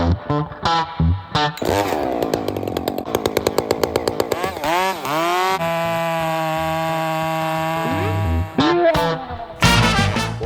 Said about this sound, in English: I got this McCulloch lightweight chainsaw here